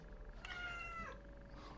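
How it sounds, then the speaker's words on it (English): A cat meows once in a drawn-out, rising-then-falling call, close and fairly clear over a quiet room hum. "sorry, it's my cat."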